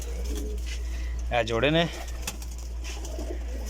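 A pigeon coos once, a short warbling call rising and falling, close by over a constant low hum; a brief spoken remark comes just before.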